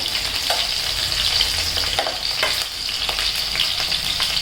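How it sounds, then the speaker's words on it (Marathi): Green chillies frying in hot oil over a raised gas flame, a steady close sizzle and crackle with faint stirring scrapes, no talking. "आता हिरवी मिरची फ्राय करून घ्यायची"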